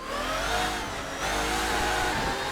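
Race car engine in Assetto Corsa from the GT Legends Championship mod pack, a steady loud revving drone with shifting harmonic whine, held near and constant for a few seconds with no voices.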